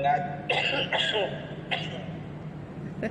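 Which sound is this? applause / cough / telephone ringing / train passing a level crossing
cough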